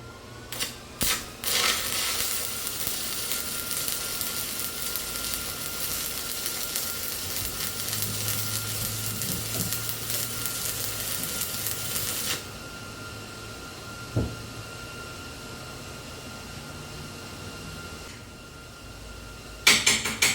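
Arc welding on bare metal with air blowing over the work, a steady crackling sizzle that holds for about twelve seconds before dropping to a quieter hiss, with a few sharp pops near the start and end.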